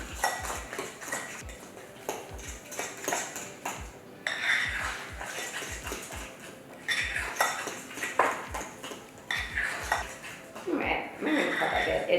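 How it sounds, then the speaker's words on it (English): A fork scrapes and clinks against a bowl while stirring a thick dark chocolate avocado truffle mixture, producing rapid repeated taps and scrapes at moderate closeness, with light talking over parts of it. "now we're just gonna stir it. I'm gonna attempt to use just my fork"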